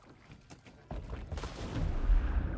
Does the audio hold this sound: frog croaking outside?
no